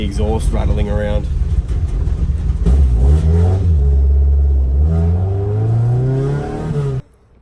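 Close Toyota AE86 Levin with a Beams 3SGE engine accelerating with a rough, rattly exhaust, pitch climbing steadily for several seconds before cutting off abruptly.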